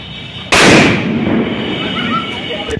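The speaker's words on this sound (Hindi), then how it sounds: "इधर अनुज पटाखे जलाने के तैयारी में है।" Diwali firecrackers in Gautam Nagar, Delhi: a single loud, close bang at about half a second, followed by a long rumbling, crackling tail that fades over two seconds and ends in a sharp click.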